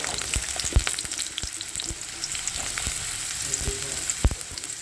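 Potato pieces fry in oil with a steady close sizzle, while sharp scrapes and knocks from stirring break through at irregular moments.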